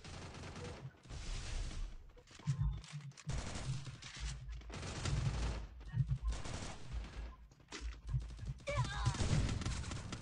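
Gunfire from a big gun in a video game crackles in repeated bursts and volleys, mixed with game effects and a voice speaking between shots, fairly quiet overall.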